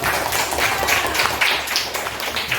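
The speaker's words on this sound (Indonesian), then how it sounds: "Tepuk tangan." A school class claps together in brisk, steady applause, close and fairly loud, for a couple of seconds with no talking.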